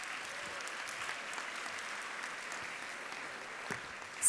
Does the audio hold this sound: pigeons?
no